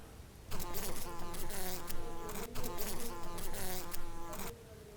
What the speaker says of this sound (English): The fly buzzes.